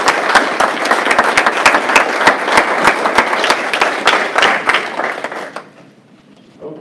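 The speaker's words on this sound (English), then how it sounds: "Let's give them all a round of applause for what they did." An audience at a district Democratic candidate forum applauds the candidates, with sharp, distinct claps in a brisk, continuous stream that stops abruptly, leaving a quiet room.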